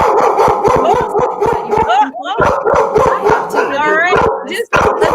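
A puppy barks, yips and howls in loud, rapid, repeated bursts during a live online show, dominating the sound with brief pauses, while a person talks underneath.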